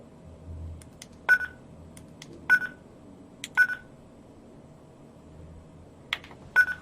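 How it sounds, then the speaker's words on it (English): Retevis RT73 mini mobile radio giving short electronic power-on tones, five brief beeps spaced irregularly against a quiet background hum, with no talk. "If you want to hear a tone when power on the radio."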